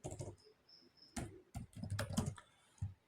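Typing on a computer keyboard, with quiet, close clicks and key taps coming in short irregular bursts separated by brief pauses.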